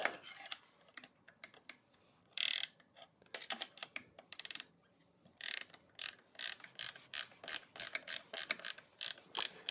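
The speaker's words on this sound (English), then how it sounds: "Get the 10 mil in, the open end on for the first few rotations, and then I can get my ratchet in." A ratchet tightens a 10 mm bolt while a RadCity 5 Plus electric bike is assembled, giving close, crisp bursts of rapid clicking that come in repeated short strokes with brief pauses between.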